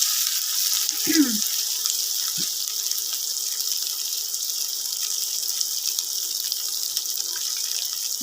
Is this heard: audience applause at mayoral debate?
no